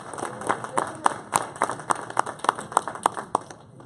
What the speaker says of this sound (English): Yeah, a round of applause for that.